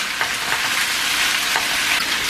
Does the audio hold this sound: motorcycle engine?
no